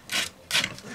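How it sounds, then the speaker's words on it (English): Two short scratchy strokes of 120 grit sandpaper rubbing across a carbon fiber propeller, close and distinct, with a quick rasping rhythm. "Sandpaper. What grit is this? I don't know. I just grabbed this. It's 120."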